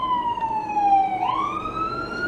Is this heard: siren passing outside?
yes